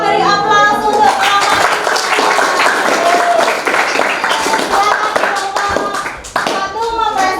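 An audience claps for a presenting group at a school or class presentation, sustained brisk applause from a small nearby crowd with a few voices mixed in.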